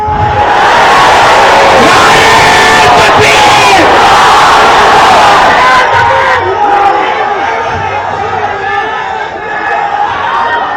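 A large political rally crowd in Narayanpet shouts slogans in a loud, dense roar of massed voices and cries, easing slightly after the midpoint but staying energetic throughout.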